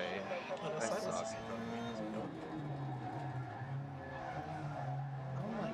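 A race car spins out in the Dirt 2 video game, with a continuous engine drone and skidding tires under busy, overlapping players' voices.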